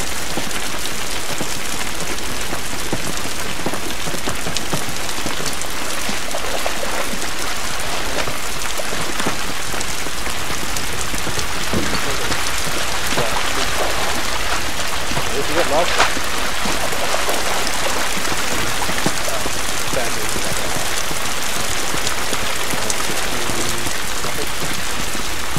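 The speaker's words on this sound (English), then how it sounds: "This rain ain't gonna do us any good." Steady heavy rain from the video game The Last of Us pours down on surfaces, a dense continuous hiss with a deeper rumble underneath, loud and unbroken throughout.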